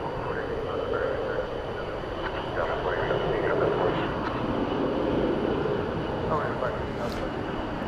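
Jet airliners taxi and queue to take off from a west-side runway at DFW Airport at night, a continuous distant engine roar and rumble with a voice talking over it.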